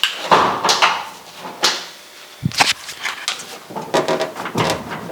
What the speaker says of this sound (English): That creaking noise, not sure if you heard it.